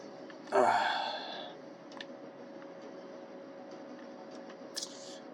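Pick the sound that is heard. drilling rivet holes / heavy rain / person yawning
person yawning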